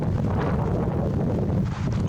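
Steady, blustery wind roars across an Arizona canyon rim, a dense low rumble of gusts buffeting in the open air without pause.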